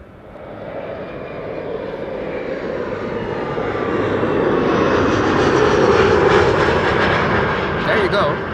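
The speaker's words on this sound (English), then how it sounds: "Proof that the A340-600 can get airborne." An Airbus A340-600 bound for Paramaribo takes off from Polderbaan runway 36L at Amsterdam Schiphol, its four-engine roar swelling from a low rumble to a loud, broad peak before easing slightly.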